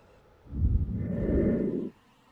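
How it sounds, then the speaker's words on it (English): Train rumbling through a station platform without stopping in the Roblox game Stepford County Railway, a low swelling roar lasting about a second and a half before cutting off. "The train now approaching Platform 1 does not stop here."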